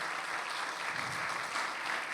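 Congregation applause during a Sunday church sermon given in English and Hindi, a dense, even burst of hand clapping praising the Lord that carries on steadily at moderate loudness with no speech over it.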